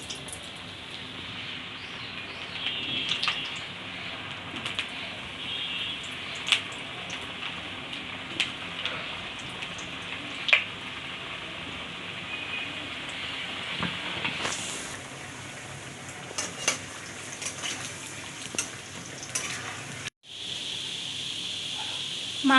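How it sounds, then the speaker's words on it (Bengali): Cut potatoes frying in oil for mutton curry, a steady hissing sizzle with occasional clinks and scrapes, briefly cutting out near the end before the sizzle resumes. "কেটে রাখা আলু ভেজে নেবো।"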